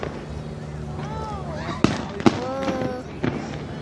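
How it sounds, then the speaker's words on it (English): Fourth of July backyard fireworks finale, a few sharp nearby pops and bangs among whistling, rising shells, with a person talking and exclaiming throughout. "I want to see all the fireworks go off at the same time."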